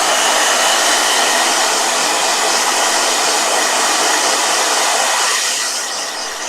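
A blow dryer runs with a loud, steady rushing hiss, close by and unbroken for several seconds before its airflow tails off slightly at the end.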